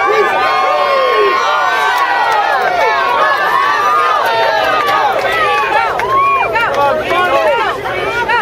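Lively crowd cheering and shouting for contestants at a professional hamburger eating championship at a Hamburg, New York burger festival, a dense, continuous wash of voices, whoops and calls filling the whole stretch.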